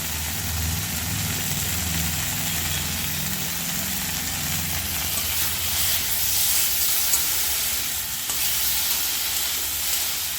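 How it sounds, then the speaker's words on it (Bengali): Potato and cauliflower pieces frying in a pan give a steady, close sizzle throughout, with occasional scraping or stirring and no talking. "আলু আর ফুলকপিটা ভাজার সময় আমি নুন দিয়েছিলাম"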